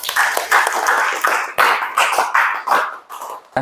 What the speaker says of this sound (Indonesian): Baik, aplaus untuk kita semua.